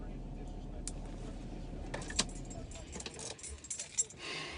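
Keys jangle in short metallic bursts as someone gets out of a car, with door and seat handling noises over a low steady cabin rumble.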